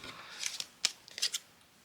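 Scissors cutting a heart shape out of paper, several short crisp snips close up and fairly quiet, spaced irregularly over a couple of seconds.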